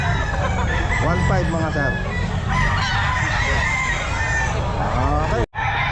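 Gamefowl chickens and roosters at a crowded pet market, several crowing and clucking close by over a dense, noisy background while people talk.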